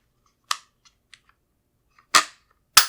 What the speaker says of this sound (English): Put it on fire, pull the trigger.